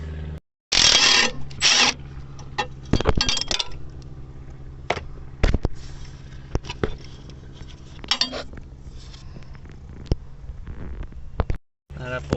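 A 13mm bolt is undone on the ECU plate of a Citroen C3 1.4/1.6 HDi: close metallic clinks and ratchet-like clicks come in scattered bursts, with someone talking in between.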